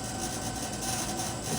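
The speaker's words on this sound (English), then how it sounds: "And excuse that noise, that is my AC." An outdoor air conditioner unit runs beside a container garden, giving a steady, moderately loud droning hum with a faint tonal whine, continuous and unchanging throughout with no talking.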